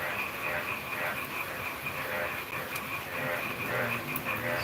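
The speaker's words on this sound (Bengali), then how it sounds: "নিশিরাতে যে ঝিঝি পোকার আওয়াজ ব্যাঙ্গের শব্দ হালকা বৃষ্টি সত্যি অসাধারণ" Steady chorus of frogs croaking through a dense night ambience, with a constant high hiss of crickets and faint light rain throughout.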